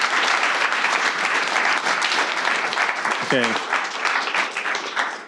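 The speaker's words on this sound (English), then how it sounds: "Everyone, please give a huge round of applause for our wonderful debaters." A panel audience gives a steady, full round of applause for the debaters, dense clapping filling the room throughout with a brief spoken remark over it.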